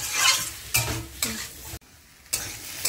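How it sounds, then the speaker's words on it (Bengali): A vegetable and potato mixture for vegetable chops is stir-fried in a pan, with a steady sizzle broken by several distinct scraping stirs and a brief quiet gap near the end. "আলু যেহেতু দিয়েছি তো এটা একটু 5-7 মিনিট আমি কষিয়ে নিই।"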